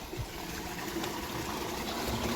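Water gushes steadily from a new 250-foot borewell driven by a submersible motor running at 170 feet, a continuous broadband rushing flow with no talk.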